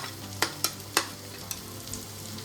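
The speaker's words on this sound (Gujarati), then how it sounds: "આ બધા વેજીટેબલને આપણે 2 મિનિટ સરસ સાતરી લઈશું." Chopped cauliflower, capsicum and carrot sautéing in a hot pan, a steady crackling sizzle punctuated by a few sharp scraping clacks of the spatula, with no talking.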